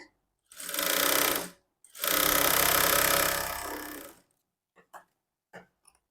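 A sewing machine stitches blouse fabric in two loud, continuous whirring runs separated by a short pause, followed by a few faint clicks and handling knocks.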